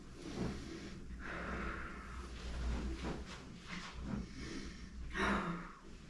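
A patient undergoing chiropractic treatment for back pain breathes heavily in quiet bursts: several deep inhales, gasps and snorting exhales spaced a second or so apart, close but soft, with no talk.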